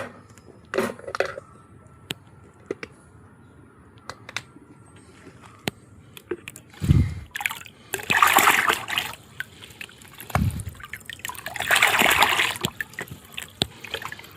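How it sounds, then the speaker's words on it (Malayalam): Micronutrient solution is poured at the base of a potted adenium plant, splashing and trickling in a few bursts between small handling clicks and knocks. "എന്നിട്ട് നമ്മുടെ പ്ലാന്റിൻ്റെ ചോട്ടിലേക്ക് ഇതുപോലെ ഒഴിച്ചു കൊടുക്കുക."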